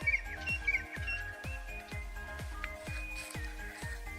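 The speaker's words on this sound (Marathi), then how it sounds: "पक्ष्याचा आवाज कसा आहे सकाळ सकाळी" Birds chirp and tweet in the early morning over farm fields at sunrise, short bright calls scattered over a steady rhythm of repeated low thumps beneath them.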